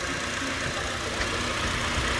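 A 2006 Honda City VTEC engine idles steadily, a smooth continuous mid-range hum with a faint ticking texture, close and alone without any talk.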